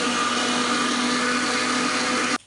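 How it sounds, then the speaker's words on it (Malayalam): A mixer grinder whirs loudly and steadily as it blends coconut rice batter, a constant motor drone with a churning edge that cuts off abruptly at the end. "മിക്സിയിൽ അടിക്കുന്നുണ്ട്"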